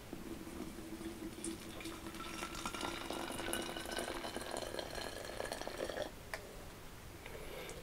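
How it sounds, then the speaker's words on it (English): Warm water pours steadily into a plastic honey bottle while making pyment mead, a continuous splashing fill that shifts in tone as the bottle fills, then stops near the end. "go ahead and add you some of the warm water to it"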